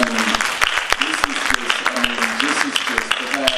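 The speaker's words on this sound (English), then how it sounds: "give him another round of applause" A lecture audience at Clark Atlanta University gives a round of applause, a dense crowd of clapping hands heard up close with sharp individual claps standing out, while a voice speaks over the clapping.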